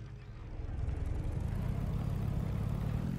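Vehicle engine in the Scrap Mechanic survival game starting up, its low rumble swelling over the first half second and then running at an even, throbbing idle with no one speaking.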